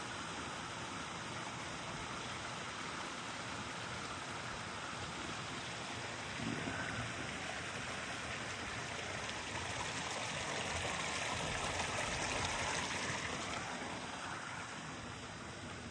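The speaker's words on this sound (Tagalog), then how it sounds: "Yung waterfall, man-made siguro yan." Man-made garden waterfall at Hakone Gardens, a continuous broad rushing of falling water heard close and steady, swelling slightly in the latter half, with no talk over it.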